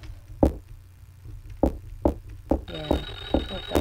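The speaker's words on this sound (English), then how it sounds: "phone's still ringing" A telephone rings in the video game Clock Tower, a bright electronic trill starting partway through, preceded and accompanied by several sharp knocking or footstep thuds that are spaced irregularly and heard up close.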